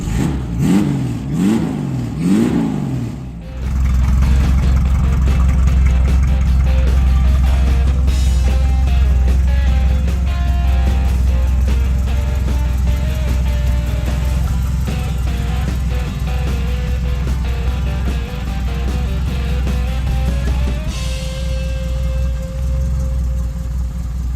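A 1931 hot rod pickup, long left sitting, drives down the road with a loud, steady engine drone and tire rumble; a short revving burst opens, then the engine holds an even, close, continuous note, shifting pitch near the end.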